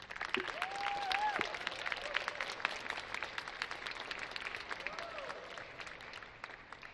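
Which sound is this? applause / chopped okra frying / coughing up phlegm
applause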